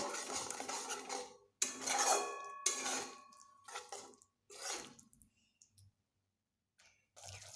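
Ground spices being sautéed in a pan for parshe fish curry, giving bursts of clicking, scraping stirs and utensil-on-metal clatter with short pauses between them and no talk.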